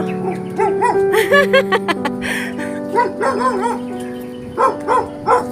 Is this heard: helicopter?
no